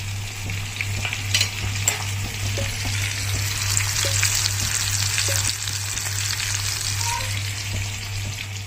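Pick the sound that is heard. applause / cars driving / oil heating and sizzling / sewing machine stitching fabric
oil heating and sizzling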